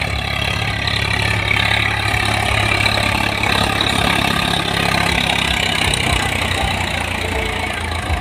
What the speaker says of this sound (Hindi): आवाज सुनो भाई आप सारे ट्रैक्टर की